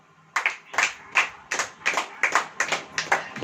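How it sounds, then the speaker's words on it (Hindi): A church congregation claps in unison at a Hindi-language sermon, about eleven sharp, evenly spaced claps in a steady rhythm, close and fairly loud with no talking. "ताली हो जाइए।"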